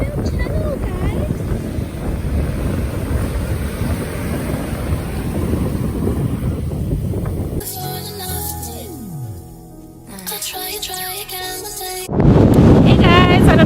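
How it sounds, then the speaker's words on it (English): Strong wind buffets the microphone on a private beach in Puerto Rico, a loud steady roar broken by sudden gusts, with talking heard at moments. "I don't know if you can hear me. It's very windy"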